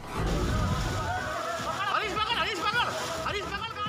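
Floodwater sloshes through a flooded market street in Bayana town, Bharatpur district, Rajasthan, after heavy rain; a heavy splash opens, then a continuous watery wash sits under several people talking and calling out.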